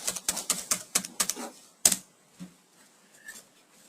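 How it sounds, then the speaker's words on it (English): A computer keyboard clicks in a quick run of close, crisp keystrokes as a student ID and password are entered, followed by a heavier key press and a few scattered taps in a quiet room. "type in my student ID and type in my student password"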